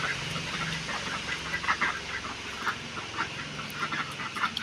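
Ducks quacking at a duck coop in the morning, a chorus of repeated nasal calls at moderate distance over a steady outdoor background.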